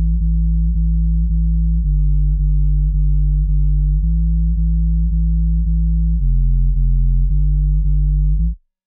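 A clean, undistorted sine bass line in an FL Studio beat plays alone as a steady run of sustained low notes that shift pitch every second or so, then cuts off abruptly at the end.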